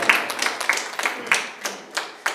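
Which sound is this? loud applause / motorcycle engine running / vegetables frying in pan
loud applause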